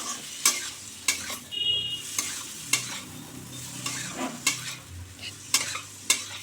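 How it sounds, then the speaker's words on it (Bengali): Beans, potato and cauliflower stir-fried with turmeric and Kashmiri chili powder in a pan: steady low sizzle broken by repeated scraping stirs and sharp spoon clinks against the metal. "এবার ভালো করে কষে নিতে হবে"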